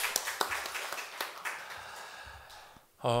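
Church congregation clapping in thanks during a Sunday service, a moderate scattered patter of hands that thins out and fades near the end before a brief louder tonal sound cuts in.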